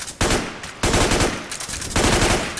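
P90 submachine gun fire in the online shooter Metal Gear Online, loud continuous automatic bursts in rapid succession, three sustained volleys with short breaks, no voices.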